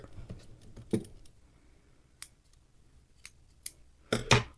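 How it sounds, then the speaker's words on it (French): Scissors snip crochet yarn for a crocheted candy cane in a few crisp, separate cuts, close and clear against a quiet background, with a louder double snip at the end. "On va couper le fil"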